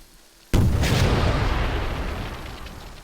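A sudden loud explosion destroys a power generator in the Lambda Wars video game, booming abruptly and then rumbling as it slowly decays for several seconds.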